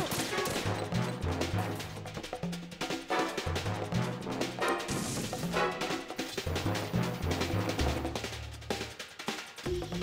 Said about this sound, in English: We throw a stun grenade.